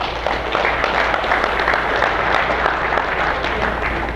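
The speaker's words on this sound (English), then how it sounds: "Can I have a round of applause for these guys?" An audience claps in a room after a talk on football conditioning and lifting, giving a dense, steady round of applause that is loud and close and goes on throughout.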